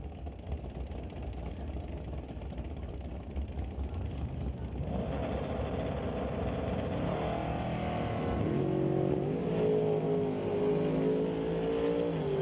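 Drag racing cars, among them a Camaro, roar down the strip at a Super Pro drag race, engines howling loud and rising in pitch as they accelerate, with a second engine joining the din midway.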